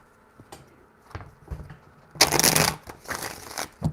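Close, crisp shuffling of a tarot deck: a few light taps and flicks, then a dense, loud riffle burst that tails off into scattered card slaps, with no talking.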